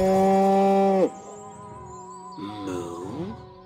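A cartoonish cow moo from the video game Destroy All Humans!, one long loud low moo followed by a second, wavering, quieter moo after a brief pause, with game ambience between.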